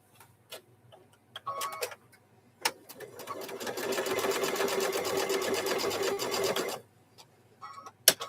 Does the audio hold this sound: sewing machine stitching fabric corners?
yes